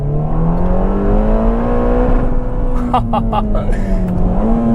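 Ferrari Roma Spider turbocharged V8 engine droning loudly on the road, its pitch dipping and rising through a downshift with a brief rev, sharp mechanical clicks heard midway.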